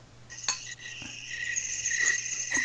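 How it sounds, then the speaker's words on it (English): Crickets chirp as a played sound effect, a steady high trilling that builds slightly over a few seconds, alone with no talk. "Crickets."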